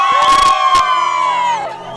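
A party crowd at a quinceañera celebration lets out loud shouts, whoops and cheers in a short burst, voices overlapping close by with a sustained high yell.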